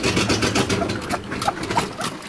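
An old Mercedes W123 limousine wagon engine with an exhaust leak runs steadily nearby, a continuous mid-low idle rumble with a rough, slightly uneven texture, with no talking over it.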